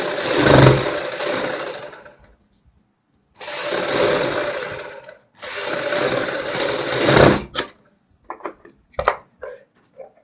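A sewing machine stitches fabric together with buckram while making a half band neck for a kurti, running in three long loud bursts separated by pauses, followed by a few short, quieter stops and starts.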